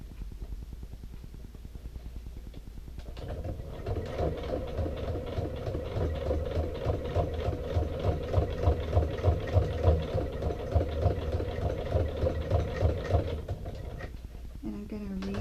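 A sewing machine stitches through thick, layered fabric on a small saddle bag, a steady rhythmic mechanical chatter that rises to a loud, continuous run for about ten seconds before stopping, with faint talk near the start and end.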